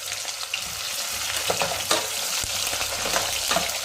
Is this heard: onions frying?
yes